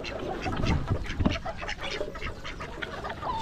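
Geese honking and quacking close by on a rural farm, repeated calls overlapping in a busy, continuous flock chatter.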